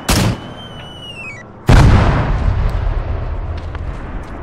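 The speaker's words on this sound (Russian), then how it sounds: "Бомба где-то." A bomb blast in the ArmA 3 Iron Front wartime shooter: one sudden loud boom partway through, followed by a long rumbling decay, with an earlier shot-like burst and a descending whistle before it.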